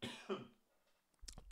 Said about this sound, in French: tousser